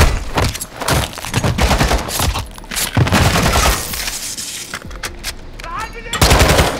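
Rapid automatic gunfire in the video game Call of Duty: Modern Warfare II, dense bursts of loud shots filling nearly the whole stretch with brief gaps, with a voice speaking over the firing.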